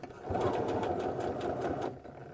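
A sewing machine runs steadily for about a second and a half, stitching a waistband onto trousers with a 1 cm seam allowance, close and loud before stopping abruptly.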